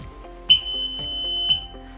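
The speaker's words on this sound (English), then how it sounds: "once it reached 0, the end of period buzzer goes off" A custom hands-free lab timer for bulb testing reaches zero and its end-of-period buzzer sounds as a piercing high electronic tone, two close, loud beeps about a second apart.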